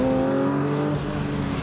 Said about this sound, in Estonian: See on suurepärane, kuidas see mootor töötab, läheb, hakkab elama